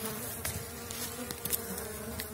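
Elgon honey bees from Sweden buzzing inside a hive on seven widened Warsaw frames, a dense continuous drone with scattered louder passes of individual bees close by.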